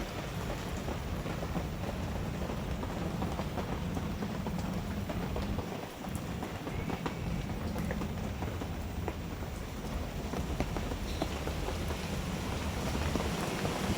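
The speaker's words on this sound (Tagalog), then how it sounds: "Lakas ng ulan yan" Heavy rain during a storm in the Bicol countryside, a dense, constant roar of drops on surfaces that stays loud and unbroken throughout, with no voices.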